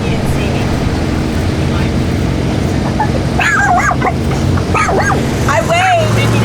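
A dog yips and barks in short bursts beside a drag racing track during finals, the calls rising over a steady engine rumble and crowd noise while people talk nearby.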